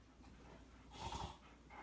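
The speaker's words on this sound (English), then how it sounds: "do you want to see the dogs wrestle?" Two dogs wrestle and play together, giving off quiet, close snorts, pants and breathy huffs, with a louder burst of scuffling breath near the middle.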